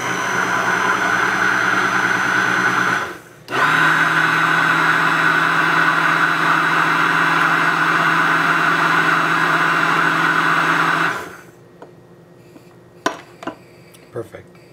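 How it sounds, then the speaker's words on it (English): An immersion blender whirs loudly and steadily for several seconds emulsifying tahini for hummus, briefly cutting out and restarting, then stops, followed by a few light clinks. "I'm going to use my favorite immersion blender to emulsify it"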